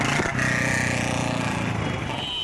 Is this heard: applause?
no